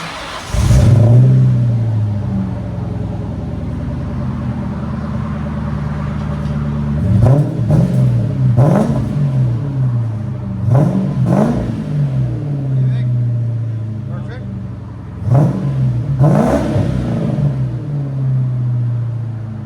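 A 1997 Ford Mustang GT 4.6L V8 with Flowmaster Flow FX exhaust idles with a deep burbling note, then revs sharply several times in bursts, loud and close, reaching about 104 decibels, with a voice talking at points.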